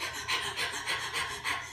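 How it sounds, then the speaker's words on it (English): Quick rhythmic panting breath of the kind used in labor, about four breathy huffs close to the ear in under two seconds, with no speech. "people just do this type of panting breath when they are in labor"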